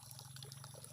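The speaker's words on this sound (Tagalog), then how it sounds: "Agasa ang tubig dani" Water runs steadily into a tub, a soft, continuous gurgling flow heard close by with no one talking over it.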